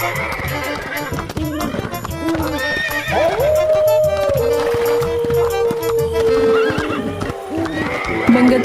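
Horses neigh with a long shrill whinny and their hooves clip-clop steadily, close and loud, under a dense layer of background music in a Hindi moral-story animation.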